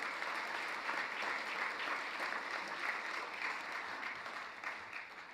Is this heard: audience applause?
yes